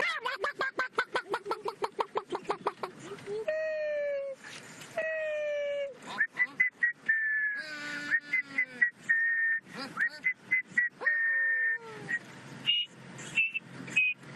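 A voice imitates a series of bird calls: rapid chirps, rising and falling whistles, and sustained honking tones, one after another, close and clear.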